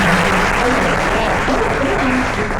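Audience applause at a directors and ambassadors meeting, a loud, continuous wash of many hands clapping with a faint murmur of voices underneath.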